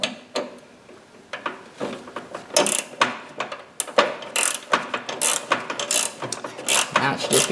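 A wrench ratchets in quick bursts of clicking while a tie rod nut is tightened on a Toro garden tractor's steering, close and fairly quiet, with pauses between strokes.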